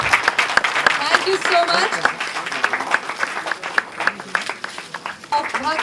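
Applause from the audience at the trailer launch of the comedy film Bhagte Raho, scattered claps running under someone speaking throughout.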